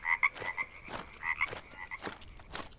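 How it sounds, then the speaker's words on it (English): Frog croaking in the jungle survival game Green Hell: a few short raspy croaks repeating in an irregular rhythm, fairly near and clear, with no talk over them. "Hello, frog."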